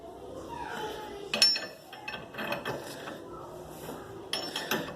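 A 24 mm wrench turns a ball joint puller on a car's front suspension in a home garage, giving a run of metallic clicks and ratcheting taps with small clanks, close up and fairly quiet, without speech.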